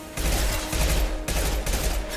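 Impact shot gunfire in the Mass Effect 2 video game, a loud, dense burst of rapid repeated shots heard as three or four pulsing surges of fire with no pause, close and continuous.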